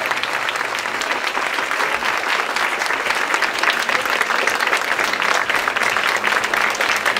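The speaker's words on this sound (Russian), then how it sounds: "Аплодисменты этим замечательным людям." A large audience at the participants' parade of a 2014 world championship bursts into dense, continuous applause, loud and sustained throughout with no distinct claps standing out.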